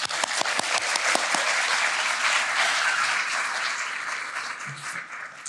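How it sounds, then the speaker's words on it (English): An audience applauds after being asked to welcome a professor at a university industrial and operations engineering event, with dense, steady clapping running the whole time before thinning slightly near the end. "Let's welcome her with a round of applause."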